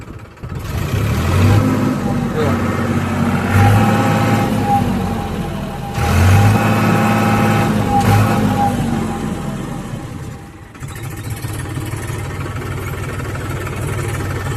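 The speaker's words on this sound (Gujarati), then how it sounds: "ટ્રેક્ટરનો અવાજ છે ને હજી એવો ને એવો છે" A Farmtrac tractor, seven to eight years old, running loud and close, its engine rising and falling in a few revving surges over a steady mid-pitched rumble, no talk.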